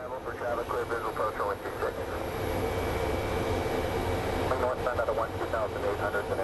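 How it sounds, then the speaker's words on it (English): A Boeing 737-800 jet airliner arriving from Denver at Phoenix Sky Harbor airport, its engine roar building into a steady broadband rumble in the middle, with people talking nearby before and after. "our next plane is a 737-800 series. It's also coming from Denver."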